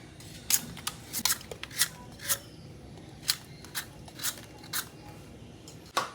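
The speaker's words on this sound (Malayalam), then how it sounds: "അപ്പം നമുക്ക് ഈ കപ്പ ഇങ്ങനെ ചീവി എടുക്കാം കേട്ടോ." Tapioca being sliced thin for frying, with a run of sharp, crisp cuts at an irregular pace against a quiet room background.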